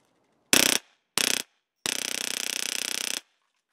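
A CO2-powered airsoft stubby M4 pistol fires two short rapid bursts and then one long continuous burst of BBs, each a tight fast mechanical rattle, close and loud with silence between.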